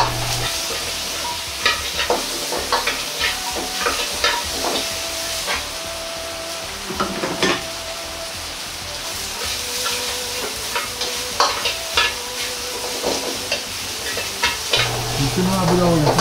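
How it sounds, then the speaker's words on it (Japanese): Carrots and onions stir-fry with meat in a hot pan, sizzling steadily while a utensil scrapes and clatters in irregular stirring strokes, with a louder hiss rising near the end. "人参と玉ねぎも入れ炒めていきます。"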